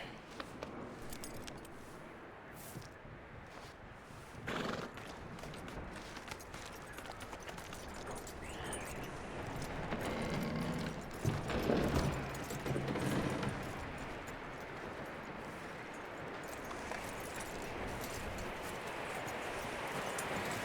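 Horse hooves clopping steadily with tack and gear jangling in Red Dead Redemption 2, a continuous rhythmic run lasting throughout, with a brief louder burst midway; no clear neigh stands out.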